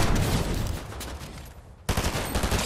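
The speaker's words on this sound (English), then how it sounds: "Taking heavy fire." Heavy gunfire from a Fortnite no-build trio match, a dense, continuous burst of rapid shots that briefly thins out, then resumes loud and close.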